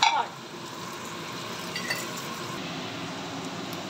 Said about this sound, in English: add green chilli and onion. Fry the onion till it becomes hot